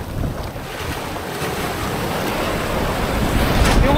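Waves crashing and strong wind on a beach in Puerto Princesa, Palawan, a continuous loud roar of surf with heavy wind buffeting the microphone, swelling toward the end.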